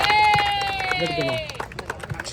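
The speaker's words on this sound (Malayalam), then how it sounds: "നമ്മൾ സാറിനെ സ്വാഗതം ചെയ്യാം. നല്ലൊരു കൈയടിയോടെ" At a KIC football match day, a crowd claps to welcome a guest: scattered, uneven hand claps build near the end after a high whistling tone, with speech and crowd babble around them.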